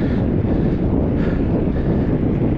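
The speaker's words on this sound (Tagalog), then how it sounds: "sa lubong yung hangin" Strong, steady headwind buffets the microphone while riding a road bike, with a loud, continuous low rumble and roar and no other clear sounds.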